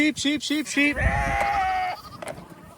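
Sheep on a farm bleat in several short, wavering calls close by, first a quick run of cries and then one longer drawn-out bleat, with a person speaking around them.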